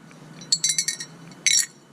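A small glass stopper wrapped in cork or paper sheathing clinks against the inside of a box from an auction house dumpster, giving a quick rattling run of bright taps and then a second short burst, close and fairly loud.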